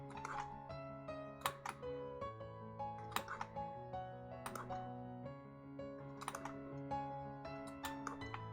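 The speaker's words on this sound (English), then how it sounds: "probably my keyboard you're hearing." Computer keyboard typing with a heavy, slightly aggressive spacebar tap, heard close up as a steady run of clicks and sharp louder thumps over sustained background music.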